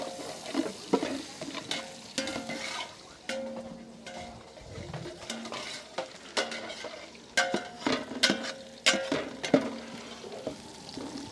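Crushed garlic, dried red chillies and curry leaves fry in hot oil with a soft continuous sizzle, broken by repeated sharp clicks and scrapes of a ladle stirring against the pan.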